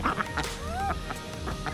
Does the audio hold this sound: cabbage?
no